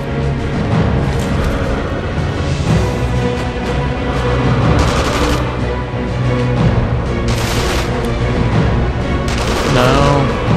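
Repeated gunfire bursts in the World War II sniper game Sniper Elite V2, loud shots and rattling volleys over a thick, continuous bed of battle noise and music.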